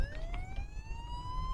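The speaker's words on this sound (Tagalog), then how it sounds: "May ambulansya lagi." An ambulance siren wails on a road, its rising electronic tone sweeping steadily upward over traffic rumble, fairly close and loud throughout.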